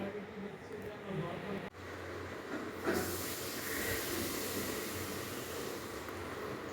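Whole cumin seeds temper in hot oil in a wok after fish has been fried in it, producing a soft hiss that swells after a few seconds and then holds as an even, close crackle.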